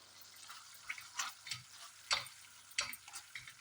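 Gravy with ginger garlic paste and green chilies stirred in a pan, a soft sizzle under irregular scraping strokes of a spoon, with a few sharper clinks against the pan.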